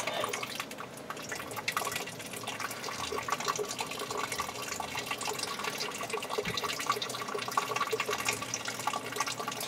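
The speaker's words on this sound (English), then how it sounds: "it will drain off the last bit of water in the line" Water drains out of a sprinkler system line during winterizing, a steady, continuous rushing and splashing that holds at an even level for the whole stretch, close by, with no talk.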